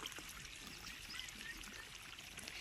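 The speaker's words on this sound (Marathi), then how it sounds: "पाणी चालू केलं काय, आवाज येतोय" Water from an irrigation pipe on a farm, released after a valve is turned with the motor already running, pours and gurgles steadily at close range, a faint continuous rush with no speech.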